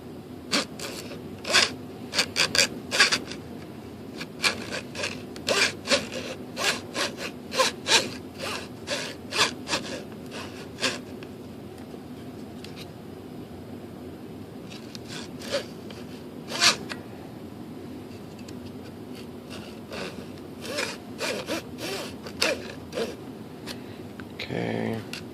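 Hand sawing a flap cut into the composite wing of a 2.6 m ASH26 sailplane, with close, rapid rasping strokes in uneven bursts and a short pause partway through.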